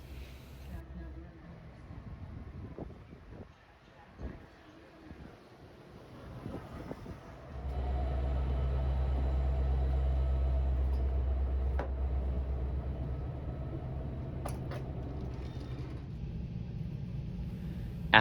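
Steady low rumble of a Metra Milwaukee District West commuter train riding toward Elgin, Illinois, quieter clatter at first, then a loud continuous roar with occasional clanks and a brief high squeal.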